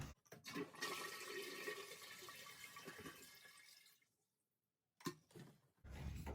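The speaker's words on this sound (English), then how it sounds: "We're going to flush the toilet." A toilet flushes with a loud rushing, gurgling whoosh that drains away into silence, followed by more running water and a clunk.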